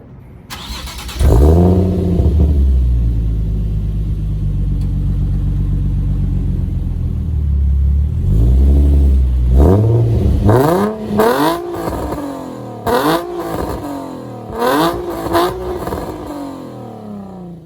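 Nissan 350Z with a VQ engine and aftermarket exhaust, starting and then revving loudly up close: a steady deep idle drone followed by repeated sharp blips and rising revs, with no talking.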